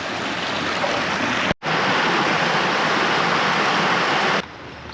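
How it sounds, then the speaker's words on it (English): Waterfall in a Japanese garden along a walking path, a loud continuous rushing roar of falling water heard close up, briefly cut out near the start and dropping away at the very end. "Waterfalls."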